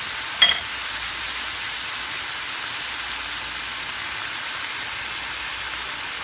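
Steady, even bubbling and hiss of food simmering in a pan, continuous and close, with a single brief clatter near the start and no talking.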